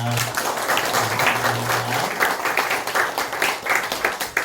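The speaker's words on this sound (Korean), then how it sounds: "우리 이렇게 마을에서 오신 분들 우리 환영의 박수 하겠습니다." Welcoming applause from a church congregation during a Sunday worship service, a dense burst of many hands clapping, fairly loud and close, with a brief hum of voices or tone at the start.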